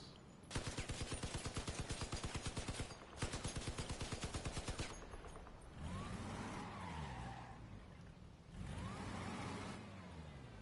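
Rapid machine-gun fire from enemy guns in the vehicle combat game Crossout, two loud sustained bursts of rattling shots followed by engine roar and skidding tires.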